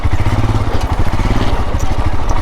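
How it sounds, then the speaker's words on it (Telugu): A Royal Enfield Himalayan adventure motorcycle rumbles off-road over rocky ground, its engine loud and close with a steady, throbbing low pulse and clattering from the rough terrain. "అయినా అడ్వెంచర్ బైక్ కాబట్టి సింపుల్గా అయితే అక్కడ అలా వెళ్ళిపోతుంది"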